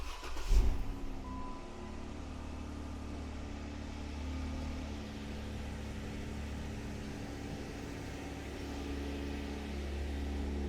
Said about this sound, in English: It's a cold start, so the engine RPM is a little high. The sound from the exhaust is really throaty.